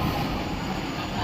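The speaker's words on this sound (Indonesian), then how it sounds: "kita naikkan speednya di sini di yang kedua yaitu high idle atau ketika engine bekerja pada RPM tinggi" Heavy equipment diesel engine held at high idle, a loud, steady broadband roar with no change in pitch over a brief stretch.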